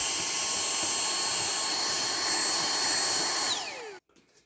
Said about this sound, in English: I'll probably give it a quick vac out inside just to get me dust out of there.